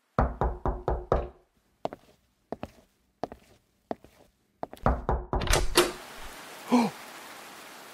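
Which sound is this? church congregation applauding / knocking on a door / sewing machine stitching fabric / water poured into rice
knocking on a door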